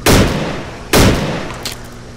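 Two heavy blasts from a sawed-off shotgun in STALKER: Clear Sky, loud and close, about a second apart, each a sharp boom with a short ringing tail, and no talking.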